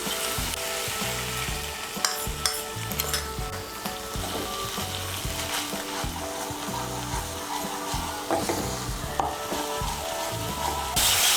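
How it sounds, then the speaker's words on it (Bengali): Spice paste of chilli, coriander and cumin powder frying in a pan for a vegetarian pumpkin roast: dense, continuous close sizzling with intermittent stirring scrapes, no talking. "গুঁড়ো মশলাটাকে মিশিয়ে নিয়ে আমি মশলাগুলোকে একটু ভালো করে কষিয়ে নেব"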